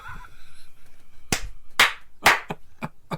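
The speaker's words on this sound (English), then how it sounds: "that deserved a bit of an applause there." A few sharp, close hand claps from a single person follow brief talk, spaced irregularly then quickening into smaller softer claps.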